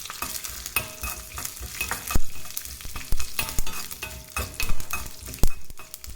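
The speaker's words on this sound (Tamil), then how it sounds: "நல்லா பொரியிற வரைக்கும், எல்லா கடுகும் பொரியிற வரைக்கும் வெயிட் பண்ணுங்கள்." Mustard seeds pop and crackle in hot oil for a creamy curd rice tempering, a busy sizzle broken by sharp, irregular pops and a few louder bursts, close and without speech.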